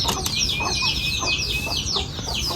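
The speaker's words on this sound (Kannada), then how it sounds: "ಇವಾಗ ಬನ್ನಿ ಕೋಳಿ ಮತ್ತು ಅದ್ರ ಕೋಳಿ ಪಿಳ್ಳೆಗಳು ತೋರಿಸ್ತೀನಿ" Hens and their chicks on a small farm cluck softly and peep continuously nearby, thin high chick calls threading over low, steady clucking.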